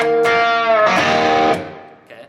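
An electric Stratocaster note bent on the third string while the tone knob is jiggled, giving a sustained, harmonically rich tone with a wavering phase-like sweep that swells, then decays with a short pick noise at the end.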